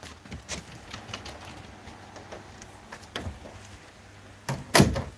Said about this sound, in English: Let me open the door for you, Prince